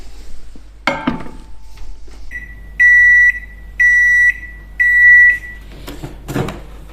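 A microwave oven being set to cook prawns at 450 watts: after a clunk of the door, three loud, clear electronic beeps sound in sequence, each held for about half a second, followed by some handling noise.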